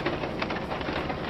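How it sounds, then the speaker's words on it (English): Low-budget rain sound effect in Train Mechanic Simulator 2017, a steady, hissing patter of rainfall that stays fairly faint and even throughout, with no voices over it. "And it's raining, but wow, that raining sound effect is rubbish."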